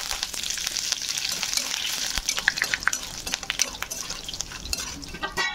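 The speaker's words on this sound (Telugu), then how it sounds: "కొంచెం కరివేపాకు కూడా అందులోనే కొంచెం ఫ్రై చేసేసుకొని పక్కకు తీసేసుకోవాలి" Curry leaves crackling in hot oil alongside fried peanuts, a bright steady sizzle with bursts of sharp popping and spattering near the middle, close and without talk.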